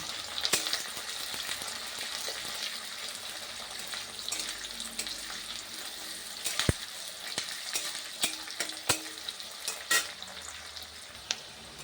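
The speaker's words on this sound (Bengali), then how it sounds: "এখন পেঁয়াজ কুচিটা দিয়ে দিচ্ছি ওটা হালকা লাল লাল ভাজা হয়ে গেলে" Chopped onions fry in a pan for a restaurant-style vegetable curry, a steady close sizzle broken by sharp clicks and scrapes of stirring, with no talking.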